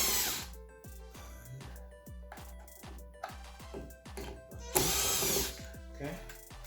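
Power drill backing out the mounting screws of a Fanimation Hugh 52-inch ceiling fan, heard as repeated short whirring bursts with clicking, close and fairly loud, under background music.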